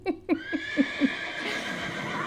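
A voice imitates a horse neigh, a rapid string of five pulsing whinny bursts followed by a drawn-out trailing squeal, loud and close.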